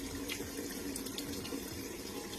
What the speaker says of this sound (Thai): ลืมเปิดวาล์วน้ำ นะครับมาแล้วครับ